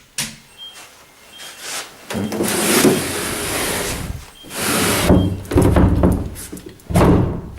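A worn house door with broken handles is pushed shut in a lobby, giving a few heavy thunks and scraping slides spread over several seconds, close by, with no talking.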